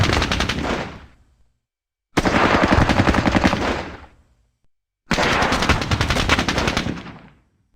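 Gunfire from the turn-based tactical war game WDS Squad Battles Eagles Strike, three separate loud bursts of rapid automatic fire, each running a second or two and fading out, with a brief silence between them.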